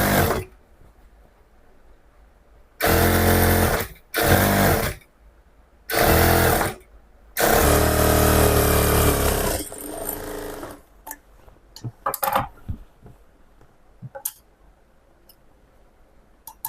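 A sewing machine stitches fabric for a straight pant in loud, dense bursts of rapid mechanical chatter. The runs vary in length, with short pauses and a few small ticks and clicks between them.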